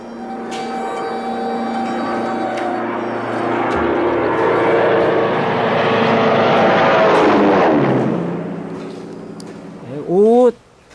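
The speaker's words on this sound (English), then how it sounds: "I could see a reconnaissance plane circling above us." Reconnaissance plane circling overhead, a loud, steady propeller-engine drone with strong tonal hum that swells and slowly fades, ending with a brief rising whine.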